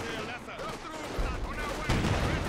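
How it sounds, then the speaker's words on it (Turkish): Heavy cannon fire in the World War II strategy game Company of Heroes 2, set at the Battle of Stalingrad: two loud booming blasts land over continuous battle noise and gunfire, with no clear talk over them. "o ne top atmak öyle?"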